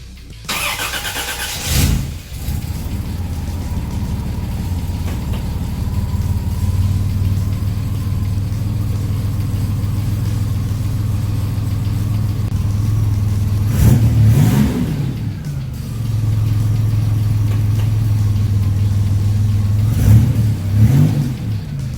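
A Buick Grand National car engine cranks and catches, then idles steadily, with two short bursts of revving rising and falling partway through.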